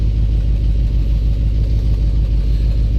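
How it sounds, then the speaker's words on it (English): A 1984 box truck engine runs with a knock, giving a steady, close, low rumble that holds level throughout, with no speech. "It don't exactly sound like an engine knocking, but it sounds kind of like an engine knocking."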